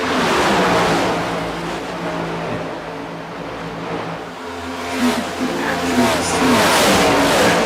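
NASCAR Next Gen race cars roaring around Las Vegas Motor Speedway in iRacing, a loud sustained engine drone that rises and falls as cars pass and rev.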